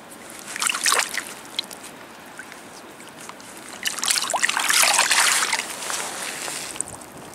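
Water trickles and sloshes as a small brass object found on the Thames foreshore is washed in the river, with bursts of splashing and dribbling close by.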